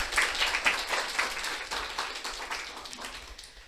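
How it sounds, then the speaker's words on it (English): Audience applause for a panel at a Women in Tech event, a moderate crowd clapping steadily and fading slightly over a few seconds, no speech. "So round of applause for our lovely panelists."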